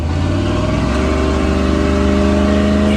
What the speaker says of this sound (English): The only thing that kind of sucks about driving the Jeep is how loud it is.